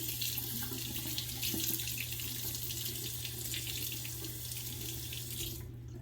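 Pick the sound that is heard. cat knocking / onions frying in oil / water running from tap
water running from tap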